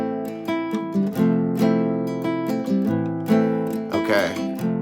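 Guitar strumming a progression of song chords, ringing sustained notes with regular rhythmic strums, moderately loud and close, with no talking over it.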